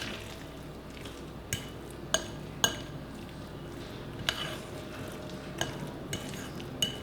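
A spoon stirs a warm mixture for eggless panettone or holiday cookies in a bowl, a soft scraping bed broken by several sharp clinks against the side, fairly close and moderately quiet, with no voices.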